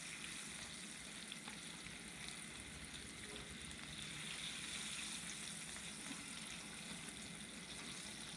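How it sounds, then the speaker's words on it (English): Bluegill fillets coated in flour, egg and breadcrumbs frying in a pan, a faint, steady, even sizzle running continuously with no talking. "this is also a good way to fry fish up too"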